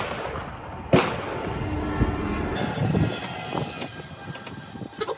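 An original Austrian M1854 Lorenz rifle-musket fires a single sharp shot outdoors, followed by a rumbling echo and faint scattered noises afterward.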